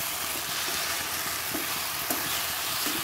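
Bottle gourd curry fries in a covered pan with whole tomatoes pressed on top, giving a steady close sizzle with soft stirring clicks and occasional small pops throughout.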